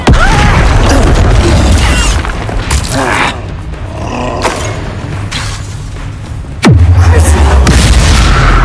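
Incendio fire spell cast in Hogwarts Legacy, loud booming bursts and roaring flames amid battle effects, with a sharp swooping blast and heavy impact late in the clip.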